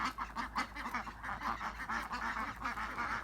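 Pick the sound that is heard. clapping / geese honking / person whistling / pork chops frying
geese honking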